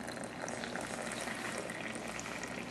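Water heated to 175 degrees is poured over Pouchong oolong tea leaves, giving a steady, soft rushing splash that runs evenly throughout without pause.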